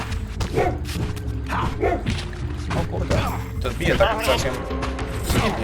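A dog in the video game Legacy of Kain: Soul Reaver 2 gives repeated sharp barks and yips amid game clatter and thuds, while someone talks over the action.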